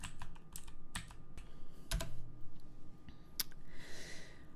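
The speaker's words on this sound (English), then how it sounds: "I have a really clicky keyboard" Fast, crisp clicks from a clicky computer keyboard come in uneven bursts close to the mic, with a louder clack now and then and a soft breath near the end.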